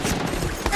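Film battle gunfire during a beach landing as soldiers leap from a landing craft, a dense, continuous crackle of rapid shots with a heavier burst near the end, loud and close for under a second.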